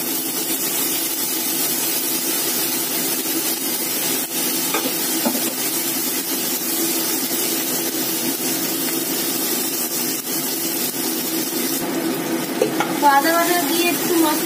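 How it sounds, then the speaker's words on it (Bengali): Ginger paste and a splash of water hitting hot oil for a Bengali vegetarian dish: a continuous loud hiss and spluttering sizzle, steady throughout, with a few clattering stirs near the end. "এবার দেবো আদা বাটা, একটু জল দিয়ে দিচ্ছি, একটু জল দিয়ে দিলাম, প্রচুর ফাটছে"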